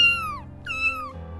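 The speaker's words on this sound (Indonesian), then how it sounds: "Si kucing pun ikut berhenti, yang sesekali dia berbicara. Meong, meong." A cat on a mountain hiking trail gives two clear, close meows in quick succession, the second slightly longer and rising, with no talk over it.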